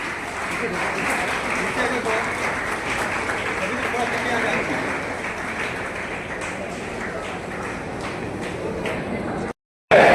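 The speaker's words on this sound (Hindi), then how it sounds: "कृपया जोरदार तालियों से स्वागत किया जाए।" An audience at a Lucknow ceremony honouring soldiers claps steadily for about nine seconds, a dense, loud wash of applause before a brief cut to silence.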